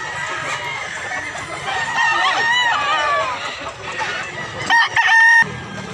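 Many gamecocks at a farm crow continuously in a thick overlapping chorus, with one louder, nearer crow rising sharply near the end before the noise briefly drops.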